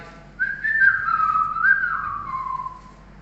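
A person whistles a slow, gliding tune alone, clear and close, with pitch sliding down over about three seconds.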